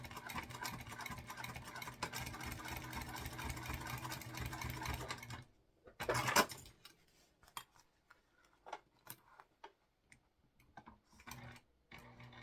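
A sewing machine basting nylon webbing onto a sling bag runs in a steady rapid stitching chatter for about five seconds, then stops, followed by scattered handling clicks and rustles.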